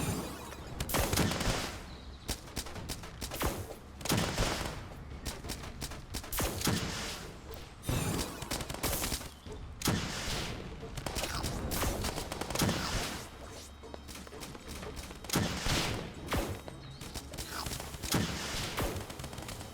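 Rapid bursts of gunfire and heavy rocket-launcher blasts in the Starbound video game, modded with Frackin' Universe, crackle in dense, loud volleys with brief pauses across the whole stretch.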